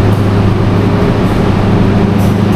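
Steady, loud low rumble of the Baturraden Express passenger train from Bandung to Purwokerto, Indonesia, heard from inside a business-class carriage with continuous wheel and track noise.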